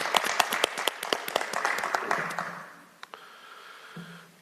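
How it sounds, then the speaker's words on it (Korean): An audience at a political event in Busan applauds, a burst of dense clapping that thins out after a couple of seconds into a few scattered claps, with voices murmuring briefly as it fades. "박수 한번 쳐드리죠."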